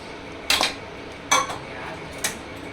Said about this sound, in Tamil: இதில் நம்ம எடுத்து வச்ச தேங்காய் பால் ஆட் பண்ணிக்கலாம்.